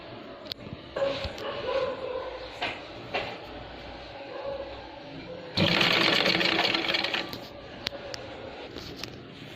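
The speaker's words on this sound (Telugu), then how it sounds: "ఇలా మిడిల్ నుంచి ఇక్కడ వరకు కుట్టిన తర్వాతకి మళ్ళీ రివర్స్ కుట్టుకుంటూ మొత్తం హ్యాండ్ మొత్తం కంప్లీట్ చేయాలి" A sewing machine stitches a frock top in close, short bursts, then runs one longer, louder stretch of steady whirring before easing off into a few last stitches.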